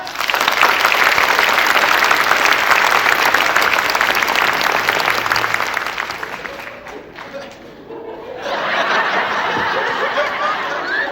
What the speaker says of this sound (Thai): ขอเสียงปรบมือต้อนรับท่านหน่อยครับ